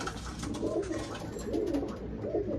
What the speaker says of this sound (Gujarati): જો કેવા બધા મસ્ત કબૂતર છે